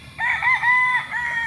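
Fighting cocks at a gamefowl farm in Tanauan City, Batangas, with one rooster giving a clear, fairly close crow that rises and then trails off.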